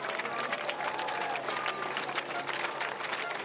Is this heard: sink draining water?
no